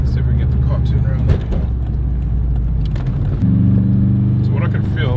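A Subaru GC8 WRX engine holds around 3,000 RPM from inside the car, a loud steady low drone that shifts pitch slightly partway through while someone talks over it.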